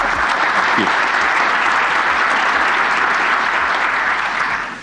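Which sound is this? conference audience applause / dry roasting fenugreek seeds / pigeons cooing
conference audience applause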